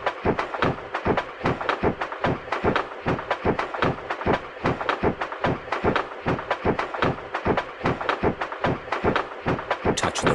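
A train rolling along in a Peppa Pig train ride video game, with a loud, steady, regular clickety-clack rhythm of wheel thumps repeating about twice a second throughout.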